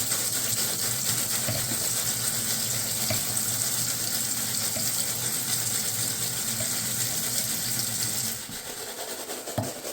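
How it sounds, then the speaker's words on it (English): Airgun pellets rinsed under running tap water: a steady, loud hiss of flowing water with faint rattling as they are rolled around, easing slightly near the end. "So then I just run them underwater, rinse them off, keep rolling them around."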